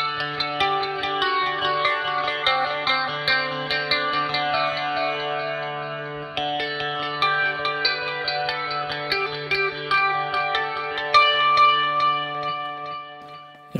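Electric guitar through an Axe-Fx II preset with a distorted tone and echo, picked notes ringing and layering into a shimmering, bell-like wash with repeating delays, loud and steady with no voices.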